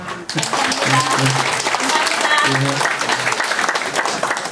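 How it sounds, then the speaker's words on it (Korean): An audience at a Korean political gathering claps loudly and continuously, a dense close burst of applause with music or voices faintly running underneath. "박수 한번 쳐주세요"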